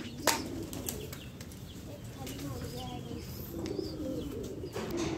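Pigeons flutter and coo close by, a sharp burst of flapping wings at the start followed by soft low cooing and scattered chirps, with occasional rustling and further wingbeats.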